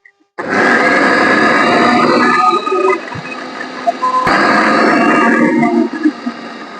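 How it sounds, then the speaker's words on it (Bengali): Electric grinder whirring loudly as it pulverises a dry homemade mosquito-repellent mixture with the lid held down, a steady close motor roar with grinding texture that dips briefly near the middle before resuming. "ঢাকা চাপাটা দিয়ে আমি কিভাবে গুঁড়িয়ে নিচ্ছি সেটা আপনারা দেখে নিন"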